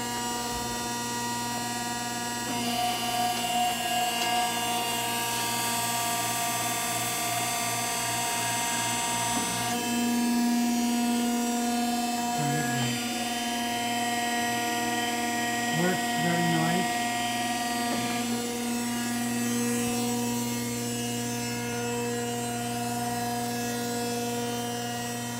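An American broaching machine with a 32-inch stroke runs in a shop, giving a steady mechanical hum with tonal whine and periodic shifts in pitch as the stroke cycles, with faint rattles and clunks mixed in.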